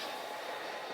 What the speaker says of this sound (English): Watching some trains run.